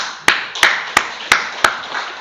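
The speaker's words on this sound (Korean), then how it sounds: "우리 그 무대에 박수 한번 쳐주시다" A church congregation claps in slow, even unison, five sharp collective claps spaced about a third of a second apart, each ringing briefly in the room.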